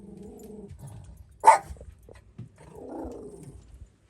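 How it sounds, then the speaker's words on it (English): A dog on a homestead gives a single sharp bark, with quieter growling and whimpering sounds before and after, close by and alone against a quiet background. "You can bark, Molly."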